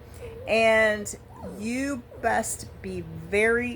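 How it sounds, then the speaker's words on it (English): Noogie the dog whines in repeated high, wavering cries, close and clear, interleaved with someone talking. "That's my dog Noogie whining"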